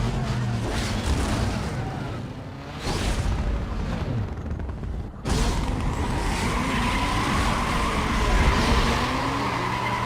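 A car roars and accelerates in the racing game Need for Speed Most Wanted (2005), its engine climbing loud and close, then dropping briefly at a gear shift before surging again, with a faint voice talking over it.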